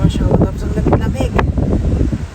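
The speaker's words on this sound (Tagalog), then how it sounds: "Ang ganda pa ng panahon ngayon dahil mahangin, tapos umaambon-ambon." Wind gusts across a microphone on a drizzly, windy day in Samarkand, Uzbekistan, a steady close rumble with a voice talking over it.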